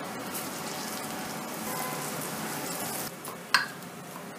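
Garam masala and chana masala sizzle steadily in hot oil for a chole masala, a continuous crackling hiss with a brief clink of a utensil near the end.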